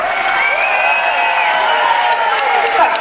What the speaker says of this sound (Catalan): I aquest aplaudiment molt fort per aquesta fantàstica Colla de Diables del Prat!